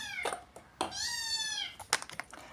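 Close, insistent meows from a hungry kitten in a home kitchen during cauliflower chilli preparation, with a couple of short cries and then one long, wavering call followed by quieter clatter and faint movement.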